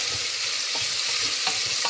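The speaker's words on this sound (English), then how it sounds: "I let it just fry a little bit before I add the vegetables" Diced bacon fries in a pot for split pea soup, a close, constant crackling sizzle with faint stirring scrapes and no talking.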